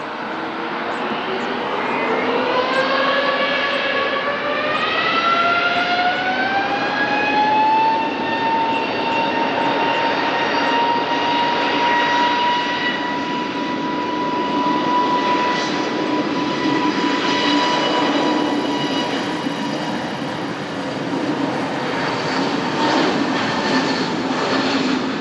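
A TAP jet airliner takes off from runway 20 at Lisbon Airport: a loud, sustained engine roar with a whine that rises in pitch over the first several seconds and then holds steady as the plane climbs away.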